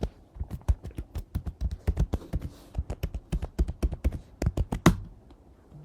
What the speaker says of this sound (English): so I'm gonna type my password.